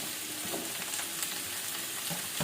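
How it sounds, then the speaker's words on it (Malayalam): Shallots and onions sizzle steadily in a hot pan with whole spices, a continuous close frying hiss with occasional stirring scrapes and no voices. "നന്നായിട്ട് ഇതൊന്ന് വഴറ്റാം"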